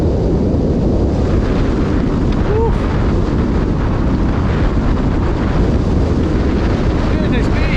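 Gusty wind buffets the microphone at a wild camping spot in heavy rain, a loud, constant roaring rush with no break throughout.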